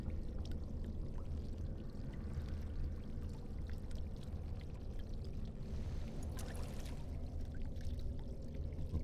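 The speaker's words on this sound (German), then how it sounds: "Langsam gießt du das Wasser aus dem Krug, sodass es zurück in den Teich läuft." Water from a jug is poured slowly back into a pond in the fantasy video game Dragon Age: Origins, a steady splashing stream that runs on without pause, with no talk over it.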